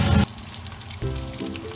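Bean sprout spring rolls, lumpiang togue, frying in oil: a brief, close crackling sizzle with a louder burst at the start, then a steady bubbling hiss.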